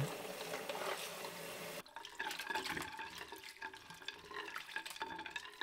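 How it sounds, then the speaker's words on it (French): Cold tap water runs over soba noodles being rinsed in a sink, a steady splashing stream that briefly changes character partway through and then continues with irregular trickles and drips. "je le rince sous l'eau froide"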